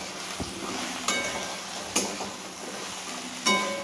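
Vegetables for shukto frying and being stirred in a pan, a steady sizzle broken by a few sharp scrapes and clinks of the spoon against the metal, close and unaccompanied by talk.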